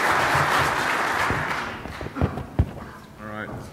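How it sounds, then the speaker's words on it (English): A conference audience claps for a talk, the applause thinning out over a few seconds into a handful of scattered claps, with a voice coming in near the end. "So everybody give him a round of applause"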